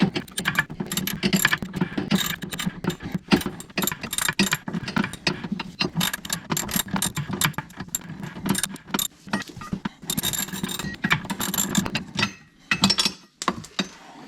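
Two 13mm bolts are worked loose on the jet pump of a 2021 SeaDoo GTI, close metallic clicks, ratcheting and tool clatter in busy irregular bursts throughout, with a few short pauses toward the end.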